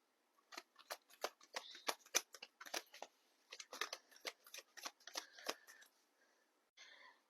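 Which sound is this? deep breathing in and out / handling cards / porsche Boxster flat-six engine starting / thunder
handling cards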